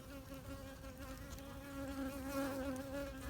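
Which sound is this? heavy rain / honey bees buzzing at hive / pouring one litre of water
honey bees buzzing at hive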